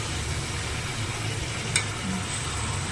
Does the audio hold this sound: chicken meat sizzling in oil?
yes